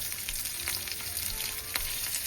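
Potatoes frying in a pan for aloo chachchari, a close and even sizzle with occasional crackles and light stirring clicks throughout, no voices.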